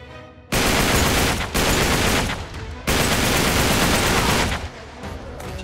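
Heavy automatic gunfire in the video game Uncharted 3: Drake's Deception, loud sustained bursts of rapid shots broken by brief gaps, dense and close with no talking.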